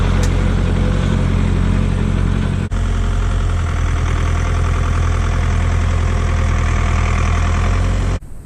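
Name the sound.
farm tractor engine idling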